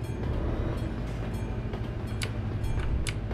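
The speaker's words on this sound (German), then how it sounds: "Wieder ein Zug." A train in the Euro Truck Simulator 2 driving game rumbles past with a steady low roar and intermittent rail clatter, loud and continuous throughout.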